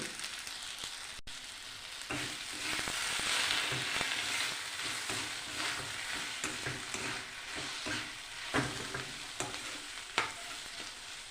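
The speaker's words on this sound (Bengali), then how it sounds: "এবার আর একটুক্ষণ আমি কিছুক্ষণ ভেজে নেব" Food frying in a pan, a close, continuous sizzle with irregular stirring scrapes and a few sharper knocks toward the end, no voices.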